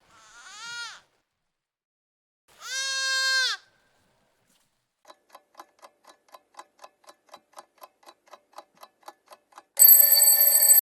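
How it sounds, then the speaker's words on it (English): Two short bleating deer calls, the second louder and wavering, then a long series of quiet even ticks and a sudden loud ringing. "It's a deer."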